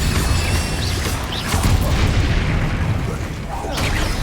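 A Bombarda blasting spell detonates in Hogwarts Legacy, a loud booming burst that runs dense and continuous through the clip under layered game effects, with a second swell of impact midway.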